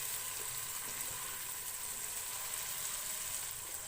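Chopped medium-sized tomatoes cook in a pan over a medium flame with a soft, steady, continuous sizzle, quiet and close, with no talking.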